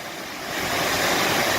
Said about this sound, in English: Another stunning waterfall, beautiful.